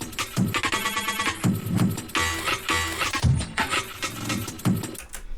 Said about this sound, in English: you can hear that the break gets stereo width.